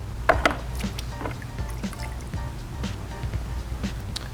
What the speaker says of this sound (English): when I pulled this towel out of the bucket, I gave it just a quick squeeze